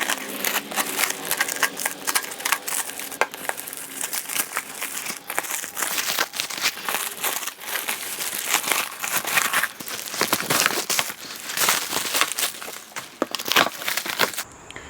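Plastic wrap being peeled and pulled off a newly shipped car bumper, a steady stream of loud, close crinkling and crackling with sharp tearing bursts, no talking.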